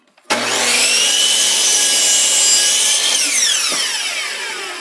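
A power saw cuts steadily through wood blocks for a checkerboard for several seconds, loud and close, its whine shifting pitch near the end as the blade frees.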